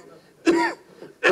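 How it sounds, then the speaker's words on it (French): Two short, close coughs with a brief pause between them, each a harsh throaty burst. "ça me fait tousser"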